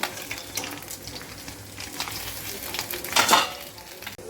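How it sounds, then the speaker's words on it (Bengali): A fish head fries in mustard oil in a pan for a Bengali pui shak chorchori, a constant crackling sizzle with occasional stirring scrapes and a louder burst near the end. "এবারে ওই তেলে মাছের মাথাটা আমি ভালো করে ভেজে নেব"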